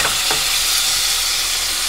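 Meat sizzles and sautés in a frying pan with a dense, steady, loud hiss of frying, close up, joined by a couple of faint stirring scrapes near the start.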